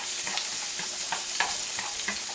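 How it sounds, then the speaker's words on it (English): Seafood sizzles in a hot pan of olive oil and butter, a steady close frying hiss with soft crackles and stirring scrapes throughout, no voices. "Ooh, that sizzle."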